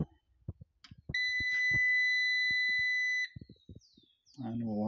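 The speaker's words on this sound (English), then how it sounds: "we'll have to find some way to disable that very annoying beep" Loud, steady electronic warning beep from an off-grid solar power system's inverter with the battery at 25% charge, sounding continuously for about two seconds amid soft clicks and handling noises.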